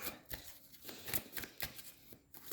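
Tarot cards shuffled for a reading, a run of soft riffling bursts and papery flicks repeating every half second or so, close and fairly quiet, with no voice over them.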